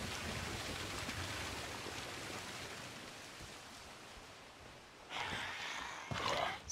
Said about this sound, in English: It's a nice little waterfall with a bridge over it.